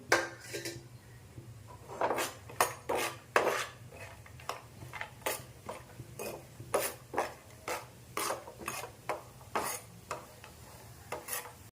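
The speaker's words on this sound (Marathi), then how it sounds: "हे जे खोबरं घेतलं आहे मी पातळ कापून, ते आपण थोडं लालसर होईपर्यंत भाजून घेणार आहे" Repeated scraping and clinking of a spatula against a hot griddle as thinly sliced coconut is stirred and roasted, in an irregular rhythm, quiet and close.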